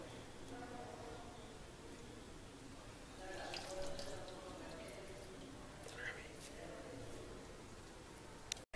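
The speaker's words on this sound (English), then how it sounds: "Now soak the bread one by one and squeeze the water" Soft splashing and dripping as water is squeezed out of soaked bread slices, near and fairly quiet, with a couple of brief wet squelches.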